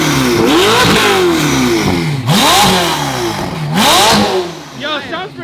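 A stage 4 tuned Ferrari 488 engine barks and revs hard in repeated surges, pitch rising and falling with each blip, loud and close, settling into a rough idle toward the end.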